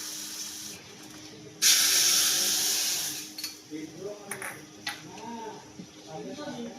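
A tempering of mustard seeds, cumin, fenugreek seeds, dried red chillies and curry leaves is poured into Gujarati kadhi, setting off a sudden loud hiss that fades into softer crackles and pops.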